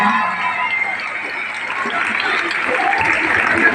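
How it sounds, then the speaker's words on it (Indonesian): Students in a school class clap energetically together, a dense, continuous burst of applause with a few scattered voices mixed in. "Oke, beri tepuk tangan yang meriah"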